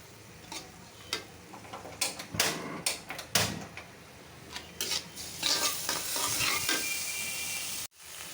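Pointed gourd dolma filling, the scooped-out gourd insides, stirred and fried in a pan, with a steady broad sizzle and repeated scraping spoon strokes, loud and close, ending in a sudden cutoff.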